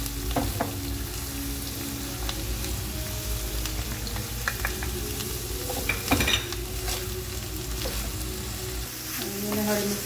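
Green chillies and onion frying in a pan for a bitter gourd dish give a steady close sizzle throughout, with utensil stirring, scraping and light clinks of metal against the pan.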